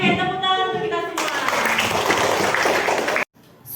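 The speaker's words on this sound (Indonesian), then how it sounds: "tepuk tangan untuk kita semua" A classroom of students bursts into loud, dense applause after a short spoken lead-in, the clapping sustained for about two seconds before cutting off abruptly, with a brief quieter tail.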